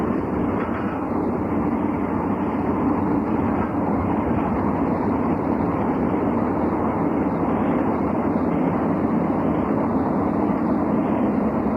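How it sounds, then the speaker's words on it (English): An ALCo RS2 diesel, number 1520, hauls a local freight, its engine drone and rolling wheel noise holding steady and even throughout. "As the freight continues its shuffle"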